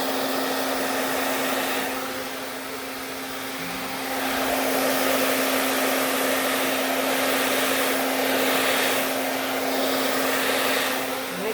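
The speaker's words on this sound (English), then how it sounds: "I'm going to paint with the hairdryer" A hair dryer blows steadily on wet paint at close range, a continuous loud whooshing roar with a steady motor hum that swells slightly as the airflow shifts, running without pause and with no voices.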